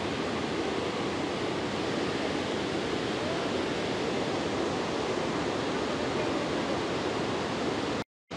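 Loud waterfall near an old suspension bridge, a dense, steady roar of falling water heard up close and continuously, cutting out abruptly just before the end.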